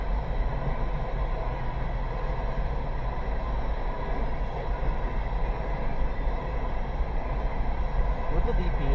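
A long empty CSX coal train rumbles steadily past at close range, a dense continuous roar with rattling wheels throughout, no break in the noise.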